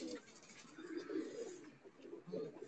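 Pigeons of a fighter breed coo in low, repeated throaty phrases at moderate distance, soft and steady across the stretch with brief rises in between.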